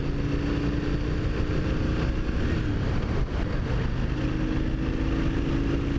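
A Yamaha V-Star 650 motorcycle pulled from a fire rides along at speed, its engine a steady loud drone with wind rush over the microphone, the pitch holding fairly level.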